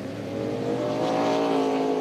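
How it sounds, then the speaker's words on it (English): K&N Pro Series stock cars race through the S's at Lime Rock Park in Lakeville, Connecticut, a rising engine roar that swells and grows louder over two seconds as the cars come past. "Through the S's he goes, but lost positions there as he gets in front of that 98 of John Murphy."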